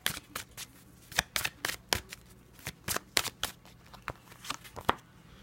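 A deck of tarot cards being shuffled and cut, with a run of crisp riffling snaps and slaps repeating at an uneven rhythm close to the listener. No one speaks.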